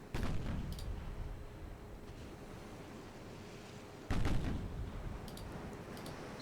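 Naval guns open fire in a Greek campaign naval warfare game, two heavy booming salvos landing a few seconds apart, each followed by a rumbling decay, with quieter distant reports between.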